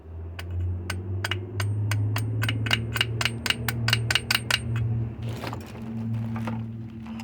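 Repeated light metallic taps fitting a small saddle piece onto a drum brake on a 1970 Chrysler/Mopar 8.75 rear axle, a steady run of about fifteen close, sharp strikes followed by a few duller knocks.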